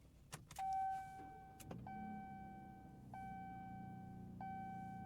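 A 2025 Ram 1500 RHO pickup with an inline six-cylinder engine starts with a brief crank and catch amid cabin warning chimes, then settles into a quiet, low, steady idle hum as the chimes repeat.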